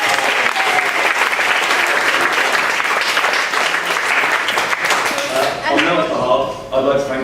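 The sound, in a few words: applause for a wedding speech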